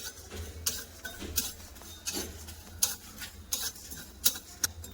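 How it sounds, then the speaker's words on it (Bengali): Whole coriander seeds are stirred while dry-roasting in a pan. A spatula scrapes and clinks against the metal in a regular rhythm, about one sharp stroke every half second or so, close and clear with no talk. "দিয়ে দিচ্ছি ধনে গোটা ধনে ধনেটাও একটু ভালো করে নেড়ে নেব"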